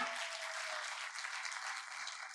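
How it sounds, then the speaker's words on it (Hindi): An audience at a company team event in Bihar claps steadily in a sustained round of applause, fairly faint and continuous from start to end. "एक बार जोरदार तालियां"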